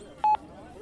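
A telephone number is dialed, with a single short touch-tone beep sounding close and clear over a quiet room.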